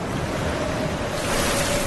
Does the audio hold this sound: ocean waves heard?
yes